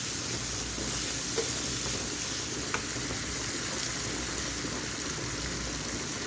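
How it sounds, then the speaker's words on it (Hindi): Egg tikka masala gravy with capsicum cooks in a pan, giving a soft continuous sizzle and gentle bubbling with faint stirring, steady and moderately quiet, no voices. "अभी मैं थोड़ी सी इस ग्रेवी को पकाती हूँ।"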